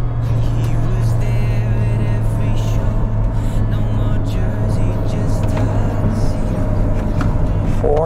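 Maxus D60 Elite SUV engine drones steadily from inside the cabin as it pulls through the gears, a constant low hum with road noise throughout and no distinct shift gaps.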